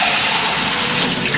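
Water pours steadily over bean sprouts held in a yogurt pot with holes in the bottom, a close, continuous rushing splash that stays loud and even throughout, with no talking.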